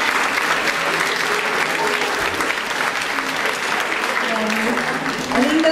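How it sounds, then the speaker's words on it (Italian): Sustained applause from a school event audience, loud and steady with dense clapping throughout and a faint voice or two underneath. "Ringrazio, un applauso."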